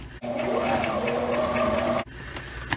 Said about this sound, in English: Cut them up and did a with a regular sewing machine, just 2 bar tacks on each intersection.